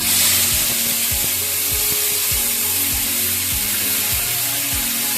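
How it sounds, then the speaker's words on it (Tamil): Soaked dried sundakkai vatthal, turkey berries, fry in hot oil in a clay pot until golden. A steady, loud sizzle runs throughout, and regular scraping strokes of stirring punctuate it. "வத்தலை பொன்னிறமாக வறுத்துக்கிட்டு"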